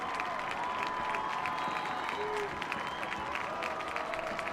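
A high-school football crowd at a night game roars and claps on a key third down, a broad steady wall of cheering heard from a distance with voices mixed in.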